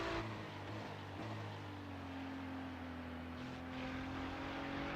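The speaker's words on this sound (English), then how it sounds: "you just hear him off the throttle, letting it turn in and just then picking the throttle up" A GT3 race car engine at Watkins Glen drones with steady low harmonics, its pitch sagging slightly as the driver lifts off the throttle and then lifting again, heard alone without any talking.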